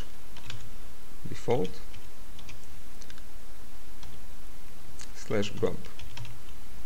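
Terminal command being typed on a computer keyboard on an Ubuntu machine: quiet, steady key clicks running through the stretch, with a voice speaking briefly twice over them.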